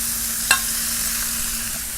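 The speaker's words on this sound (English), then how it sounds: "I'm just going to pour this on here and get this stuff sizzling hot." Steady close sizzling of sausage frying in a hot pot for chicken bog, with a single sharp clink near the start and no talking.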